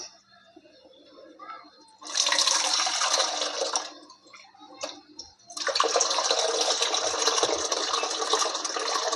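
Dried small shrimp are rinsed in water, with two loud bursts of running, splashing water separated by a quieter pause, close by and without talk.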